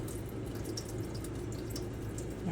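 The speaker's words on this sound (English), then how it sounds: "So I'm going to drain. So y'all can see me drain." Boiled white lima beans are drained, giving a soft steady rush of pouring water with faint drips, low and close, with no talking.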